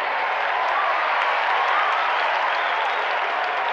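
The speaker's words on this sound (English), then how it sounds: "So let's hear it, folks, for Clarence Perlmutter and Reggie from Ohio." Steady, dense audience applause for the guests of a comedy show, a broad even roar of many hands clapping that holds at full loudness throughout with no pauses.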